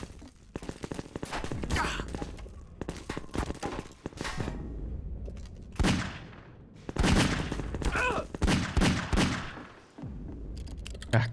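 Bursts of gunfire from Half-Life 2, rapid volleys and single shots loud and close, separated by short pauses, with some faint talk underneath.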